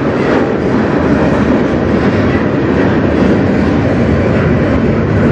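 A CN yard train rolls past close and loud, a dense, continuous rumble with rail clatter that holds steady throughout, with no voices.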